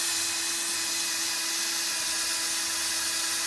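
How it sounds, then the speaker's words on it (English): A power drill whines steadily as it bores into wood, a continuous high-pitched grinding with no talking. "now what I'm going to do is take this drill, and I'm going to drill 4 holes"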